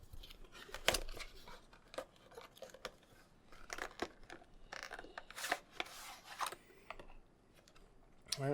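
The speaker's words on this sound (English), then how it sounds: "Let's open her up. If we can get the little tab open." Cardboard packaging for an NZXT internal USB hub is pried open at its small tab, giving quiet, close scratching, rustling and tapping with a few sharper clicks, and no talking.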